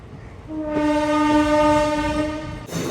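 The Guntakal–Markapur Road passenger train 57407/57408 at Dhone Junction sounds a single long, loud horn blast lasting about two seconds over a rumbling rail background, which then returns as a brief clatter.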